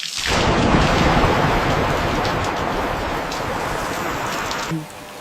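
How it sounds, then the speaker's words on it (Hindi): Heavy rain falling with rolling thunder, starting abruptly as a dense, loud roar of drops on surfaces under deep rumbles, holding steady for several seconds. "अरे 1 सेकंड, बारिश आ रही है"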